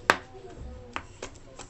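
Garlic is crushed on a kitchen surface for a coconut-milk vegetable dish, giving one sharp, close knock followed by a few softer taps.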